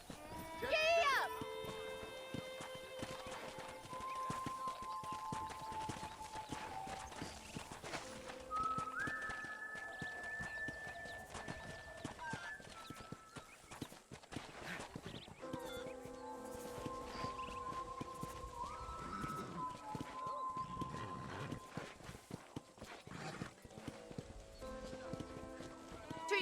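A horse carries its rider across a frontier property in the video game Red Dead Redemption, with steady clip-clopping hooves under game music and spoken dialogue.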